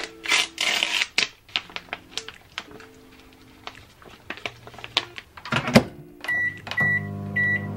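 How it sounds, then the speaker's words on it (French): A microwave oven heats a dish of ready-made spaghetti in tomato basil sauce, with close clicks, knocks and handling noises, then a steady hum with high electronic tones near the end. "Apparemment ça se prépare directement au micro-ondes."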